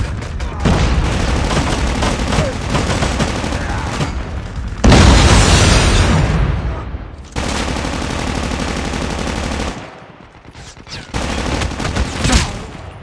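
Call of Duty Mobile gameplay brings sustained bursts of automatic gunfire and a loud boom from a frag grenade, with dense combat noise broken by brief lulls and renewed firing.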